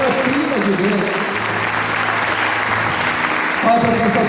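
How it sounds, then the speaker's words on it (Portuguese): Church congregation at a cell-group conference clapping together, a dense sustained wash of applause with voices and a low musical tone underneath, fairly loud and steady. "Você pode aplaudir o Senhor por isso."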